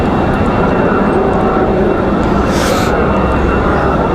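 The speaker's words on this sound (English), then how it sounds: "United, this 737 MAX on the move" A United Boeing 737 MAX rumbles with a dense, steady engine roar at Raleigh Durham airport, mixed with heavy wind buffeting, loud and constant without a clear rise or fade.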